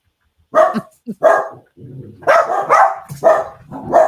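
A dog barks in a quick run of several loud, close yaps, with brief gaps and a small yelp among them, heard indoors with no talk over it.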